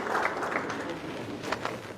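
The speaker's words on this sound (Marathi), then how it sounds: "सर्वांनी टाळ्या वाजवून त्यांचंही या ठिकाणी स्वागत करायचं." At a party workers' rally in Indapur, a crowd applauds to welcome a winning candidate, with a dense, steady wash of clapping that stays loud and fairly close throughout.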